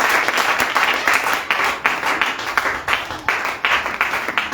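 A church congregation applauds loudly and continuously, with rhythmic bursts of clapping rising and falling at close range.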